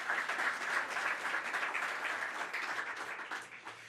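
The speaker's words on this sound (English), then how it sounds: "So again, a round of applause for that group of people." Applause from an audience at a winter weather press briefing by the New York governor, a dense, fairly distant patter of clapping that holds steady and then thins slightly toward the end.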